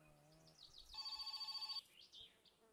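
A telephone rings in the video game My Summer Car: a steady electronic trill that sounds for about a second, set among faint chirpy background tones.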